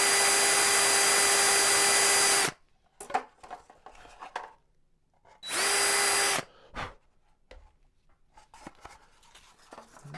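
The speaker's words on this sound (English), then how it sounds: "I always like to back up my wood whenever I'm drilling it" A power drill whines loudly in two bursts of a couple of seconds each, drilling wood for a model biplane's cowl and wheel pants, separated by quieter clatter and knocking of wood and tools.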